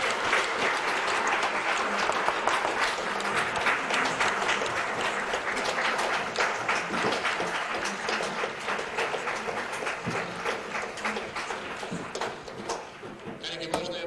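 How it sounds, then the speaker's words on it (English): Sustained audience applause at a seminar gathering in Golitsyno, a broad wash of many hands clapping steadily at close range, continuing for the whole stretch and thinning slightly toward the end. "let us applaud them"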